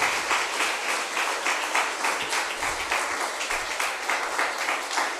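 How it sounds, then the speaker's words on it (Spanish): Applause from a congregation during a church service, a steady wash of many hands clapping at moderate distance, continuous for several seconds with a faint voice underneath. "dale un aplauso a Dios"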